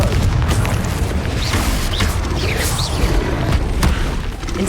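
Confringo blast spells explode repeatedly in Hogwarts Legacy, a loud, dense rumble of booms and crackling bursts that continues steadily throughout.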